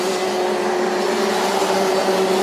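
Kart engines drone steadily through a Senior MAX super heat at a Rotax RMC International Trophy race in Asia, a continuous buzzing whine with no clear passes or breaks.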